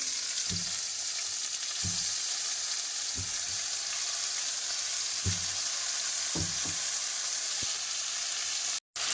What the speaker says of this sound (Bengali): আলু আর মশলাটা একটু কষতে থাকবো